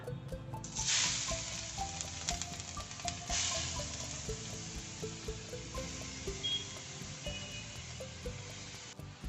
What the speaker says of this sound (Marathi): तूप तापला आहे आता आपण गाजर किसलेले टाकून घेऊया